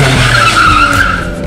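A stunt car in a live show skids across wet ground in one continuous loud tire screech that holds steady and fades slightly at the end.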